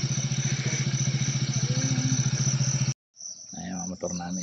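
Motorcycle engines run near and steady with a rhythmic idle throb for about three seconds, then cut off abruptly, followed by a quieter, rougher rumble.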